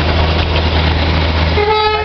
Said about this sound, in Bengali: বাতাসিয়া লুপ থেকে ট্রেন যাচ্ছে